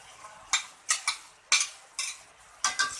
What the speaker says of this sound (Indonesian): Lalu kita aduk hingga merata ke bumbu.